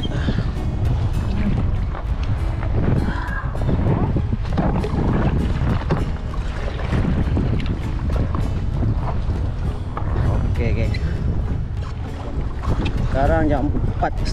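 Strong wind at sea buffets the microphone from a kayak on a fishing trip, a loud continuous roar of gusts and water, with someone speaking intermittently.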